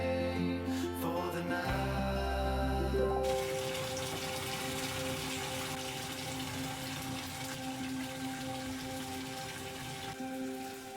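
Bathtub filling with water for an Epsom salt soak, a steady broad rush of running water that continues throughout, with a few brief tonal knocks near the start.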